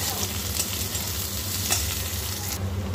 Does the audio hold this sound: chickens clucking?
no